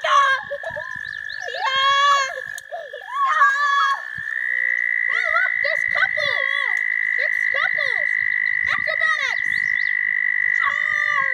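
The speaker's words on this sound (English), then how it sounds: "There's frogs everywhere." Frogs croak loudly and close by in a pond where many frogs are swimming, with rapid repeated calls over a steady high trilling chorus that runs through the whole clip.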